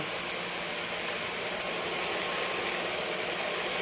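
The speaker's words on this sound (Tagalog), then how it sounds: "So, after natin mag-vacuum, dry vacuum, pwede na tayo mag-wet vacuum." A wet and dry vacuum cleaner runs steadily with a constant, loud broadband whoosh and a faint high whine, with no breaks over the few seconds.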